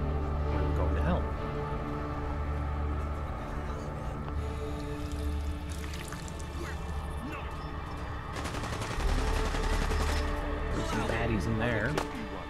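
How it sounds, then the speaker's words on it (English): Dense, continuous gunfire bursts in the video game Fallout London, with rapid automatic shots layered over game ambience and a commentator talking throughout. "Gunfire was happening over here."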